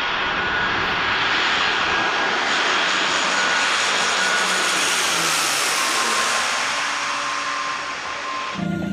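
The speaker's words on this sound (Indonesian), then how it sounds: "Wah, ada mainan helikopter." A toy helicopter gives off a steady, loud whirring drone that stays close and fills the whole span, rising slightly in the middle and cutting off abruptly at the end.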